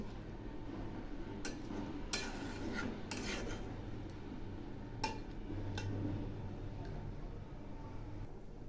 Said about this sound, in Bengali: এগুলি আবার একটু নেড়ে দিচ্ছি।